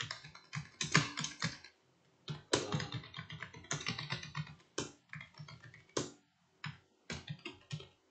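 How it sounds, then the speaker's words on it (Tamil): Keys clatter on a computer keyboard in irregular bursts of quick taps separated by short pauses, close and fairly quiet with no speech. "இப்ப நீங்க டைப் பண்ணலாம்"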